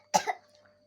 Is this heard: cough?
yes